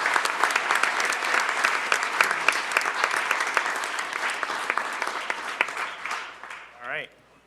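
An audience at a village board meeting applauding a family, dense steady clapping that gradually thins and fades out near the end, with a brief voice as it dies away.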